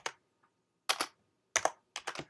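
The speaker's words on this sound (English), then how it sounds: "if you type the command uh, python 3" Computer keyboard keys tapped while a command is entered in a Kali Linux terminal: three short bursts of quick, crisp clicks separated by silent gaps, close and clear, without speech.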